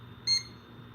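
An SK 5700 keypad alarm, set off by a manual pull station, gives a short, sharp, high electronic beep that stands out clearly over a low background hum.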